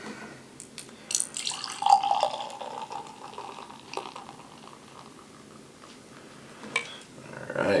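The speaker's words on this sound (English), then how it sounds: "let's go ahead and get it in a glass and see if it stands up." Witch's Broom, a hazy double IPA from Toppling Goliath Brewing Co., is poured into a glass, making close, bubbly liquid splashes that rise and fade over several seconds with no talking.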